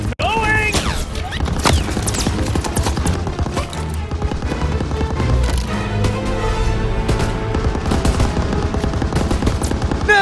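Sustained machine gun fire at an MG pillbox in Call of Duty WW2, dense and continuous rattling bursts, loud and close, mixed with shouting voices and battle noise throughout.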